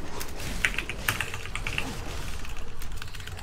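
A computer keyboard is typed on fast and continuously, producing dense, rapid clicking with a few sharper key strikes, steady and close throughout.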